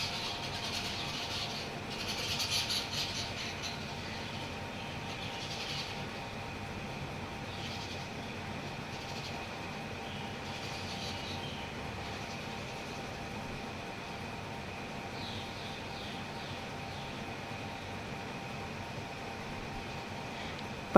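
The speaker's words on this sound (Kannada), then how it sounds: "ಪಂಡ್ರಾಪುರಕ್ಕೆ ಟ್ರೈನಲ್ಲಿ ಹೋಗ್ತಾಯಿದ್ದೀವಿ." Steady rumble and hiss from inside a nearly empty passenger train running toward Pandharpur, a continuous broadband drone with faint rattles and no voices, holding even throughout.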